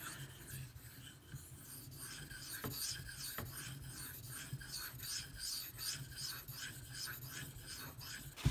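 A Bark River Bravo EDC knife is drawn across a sharpening stone in steady, repeated rasping strokes, close and fairly quiet, with no talking.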